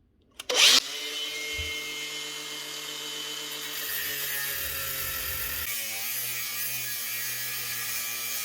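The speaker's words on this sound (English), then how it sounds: "Now we have to cut down through it just at the edge of the threads." A power tool cuts into the spindle of a Makita drill at the edge of its threads, a sharp clack then a continuous high whining grind that shifts pitch partway through, close and alone.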